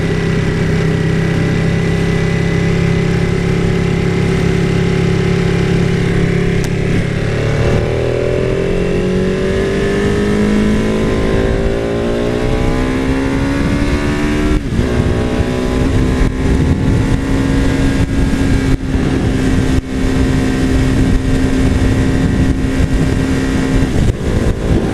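A Ducati 959 Panigale motorcycle engine runs steadily and loudly up close, its tone rising and falling through revs with no one talking.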